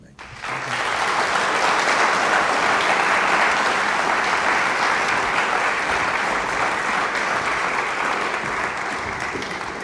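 Sustained audience applause at a community appearance awards ceremony, a dense, steady roar of clapping hands lasting the whole stretch and easing slightly toward the end.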